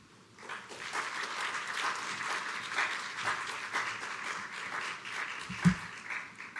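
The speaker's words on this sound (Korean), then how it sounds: "목사님 나오실 때 큰 박수로 환영하도록 하겠습니다" A church congregation applauds to welcome a pastor, a sustained wash of many hands clapping at moderate distance for several seconds, with a brief low thump near the end.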